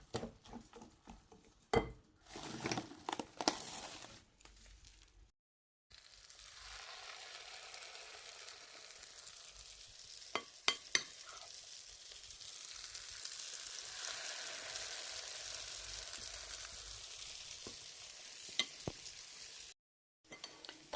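Gnonmi fritters of millet and rice frying in hot oil, a steady close sizzle and crackle with scattered pops and a few clinks of a utensil against the pan, briefly cutting out twice.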